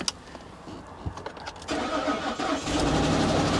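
A 2002 BMW 325Ci engine, jump-started, cranks with a few sputtering attempts, then catches and settles into a loud, rough running roar nearby.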